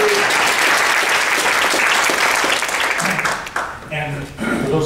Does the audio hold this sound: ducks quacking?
no